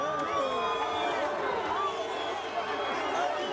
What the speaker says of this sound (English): you hear the boos from many of the members of this crowd here in the Dodge Theater